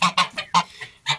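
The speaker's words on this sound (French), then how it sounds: "Les oies, on recule s'il vous plaît." Geese on a farm give a rapid series of about six loud, nasal honks close to the listener. The calls come in uneven bursts with short gaps between them.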